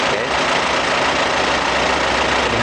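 A Mitsubishi Pajero Sport diesel engine idling, a loud, steady low rumble with dense broadband clatter that holds constant from start to finish, close up and with no voices.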